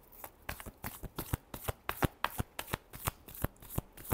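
Tarot cards are shuffled up close in a quick, steady run of crisp papery snaps and flicks, about eighteen sharp strokes in four seconds, with no talking.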